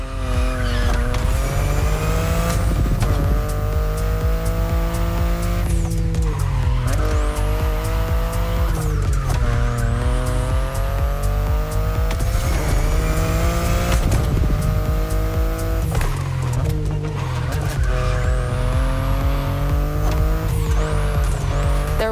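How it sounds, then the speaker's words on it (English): A BMW i8 hybrid sports car drives hard in The Crew Motorfest racing game, its engine loud and close, repeatedly revving up through the gears with sharp shift drops and tire squeal, no voices over it. "the compact i3 and the i8, the sports car you're driving"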